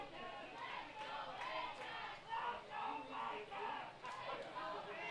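The crowd at Vintage Throne Stadium chants Let's Go Baycats during a Barrie Baycats baseball game against the Toronto Maple Leafs. The chant comes in steady, evenly spaced rhythmic pulses, heard from a distance in the open air.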